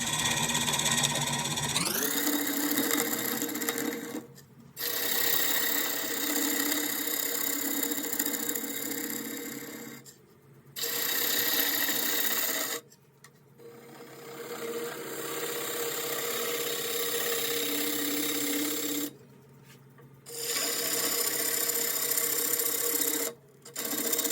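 A cedar bowl spinning on a wood lathe while the recess is dug out, giving a steady, fairly loud scraping and rasping cut broken by several brief pauses.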